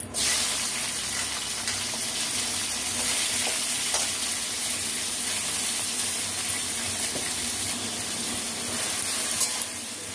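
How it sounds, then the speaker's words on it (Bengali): Salted bitter gourd pieces fry in hot mustard oil in a kadai, a loud, dense, continuous sizzle that bursts up at the start and then holds steady, close with no voices. "উচ্ছেগুলোকে ভেজে নেব"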